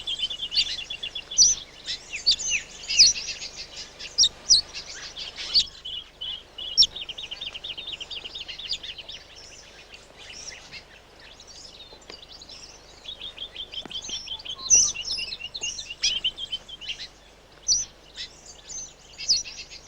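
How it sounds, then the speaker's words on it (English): Mistletoe birds, small flowerpeckers, chirp in repeated high, thin bursts that come and go across the scene, with faint insect-like buzzing in the background and no talking. "Mistletoe birds belong to the family of flower peckers, which has 58 members worldwide."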